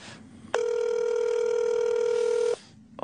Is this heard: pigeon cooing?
no